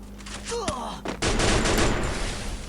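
Gunfire in the battle royale game Free Fire: a sharp single shot, then dense rapid bursts of automatic fire crackling loudly, with a faint voice briefly underneath.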